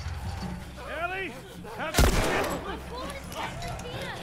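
In The Last of Us, gunners fire their guns in a tense fight: a loud, sharp shot booms out midway over continuous battle noise, while a voice shouts through it.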